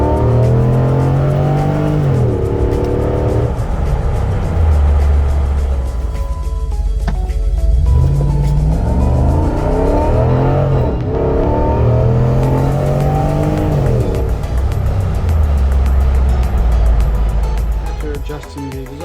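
A Jeep JKU with a swapped 6.4 Hemi V8 accelerating hard, loud close engine revving that climbs through repeated gear shifts with brief dips between them, a steady roaring drive throughout.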